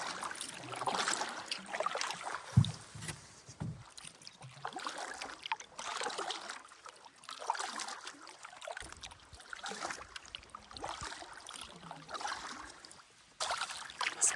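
A solo canoe is paddled across a lake, with repeated paddle strokes bringing soft splashes and water trickling off the blade, close and fairly quiet.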